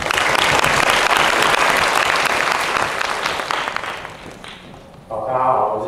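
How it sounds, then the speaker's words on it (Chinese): An audience at a COSCUP 2014 open data talk applauds to welcome the next speaker, loud sustained clapping that fades near the end before a voice starts talking. "接下来我们掌声欢迎余昌接待的演讲"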